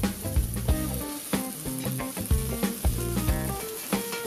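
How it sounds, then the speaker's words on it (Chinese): Cabbage and sakura shrimp stir-fry in a deep wok, a continuous loud sizzle broken by repeated rhythmic scrapes and clanks of the spatula tossing the food, close and without talk. "开始炒吧，快速的翻炒"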